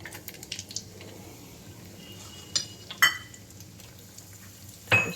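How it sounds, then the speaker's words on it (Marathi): Dry fruits dropped into two big spoons of hot ghee for a quick bottle-gourd halwa sizzle softly, with a few sharp clinks and scrapes of a spoon against the pan. "दोन मोठे चमचे तूप घेतलं आहे ते छान आता गरम झाले आहे त्याच्यात आपण ड्रायफ्रूट्स टाकून घेऊ"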